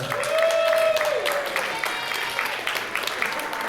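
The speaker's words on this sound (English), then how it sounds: "Give yourselves a round of applause." A crowd claps steadily throughout, a dense patter of applause with a voice briefly audible over it at the start.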